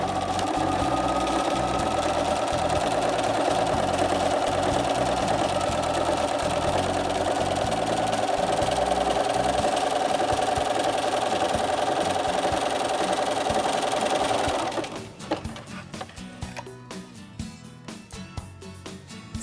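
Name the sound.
sewing machine sewing a blind hem stitch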